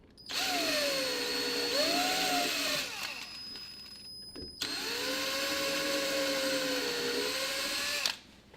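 A power drill bores into a wooden table, with two long, loud, steady whines separated by a brief pause. The pitch dips slightly as the bit loads up under pressure.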